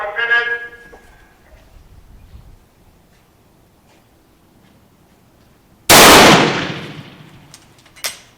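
A single loud, sharp report from an 1870 Swiss Cadet rifle, preceded by quiet handling noise and a brief burst near the start, with a short metallic clack of the action shortly after the shot.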